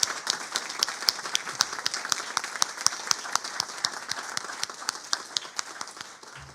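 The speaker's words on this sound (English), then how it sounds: "A round of applause to them." Steady applause from a workshop audience, dense rapid clapping filling the room at an even loudness throughout, with no voices over it.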